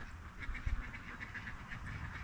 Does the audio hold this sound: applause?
no